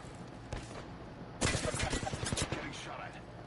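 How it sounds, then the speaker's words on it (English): Gunfire in a video game: a few isolated shots, then a dense burst of rapid automatic fire in the middle that tapers into scattered shots, heard close with no speech over it. "Getting shot at."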